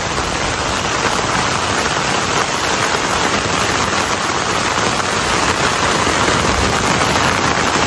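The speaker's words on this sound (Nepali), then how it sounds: "अहिले यो ठाउँमा पानी परिरहेको छ" Heavy rain falling outdoors at a watershed spring area, a dense, loud, unbroken roar of downpour that holds steady throughout.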